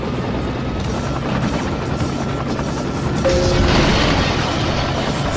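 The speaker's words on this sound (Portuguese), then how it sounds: "Lá se vai o helicóptero." A helicopter flying away in the PS1 game Tony Hawk's Pro Skater 2, a loud, steady rotor thudding with a deep rumbling drone that swells slightly near the end.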